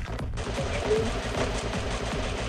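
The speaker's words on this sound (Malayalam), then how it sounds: "ഷൂട്ടിംഗ് ഭയങ്കരമായ ഷൂട്ടിംഗ് ഇവിടെ നിന്നും ഉണ്ട്" Heavy gunfire in the video game Free Fire, a rapid rhythmic stream of automatic shots in regular bursts, loud and continuous, with one sharp crack near the start.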